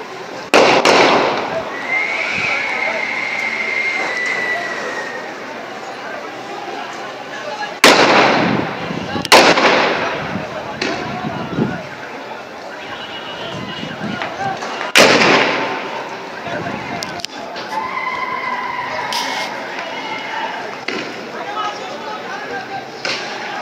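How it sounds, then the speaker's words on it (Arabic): Live rounds fired by security forces inside a hospital in Omdurman, heard as sharp, loud broadband cracks at intervals against a constant noisy background, with a few distant bangs between them. "هم حاليا بيضربوا لايف أنيميشن أو رصاص حي."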